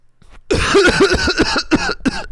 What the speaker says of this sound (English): I might have coughed, okay?